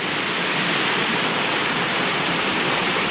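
Water from England's highest waterfall, running a bit dry, cascades down a long rocky drop in a steady broadband roar, with no talk over it.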